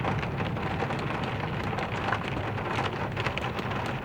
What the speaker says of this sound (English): It's not raining super heavy, but it's a little bit too much for the camera.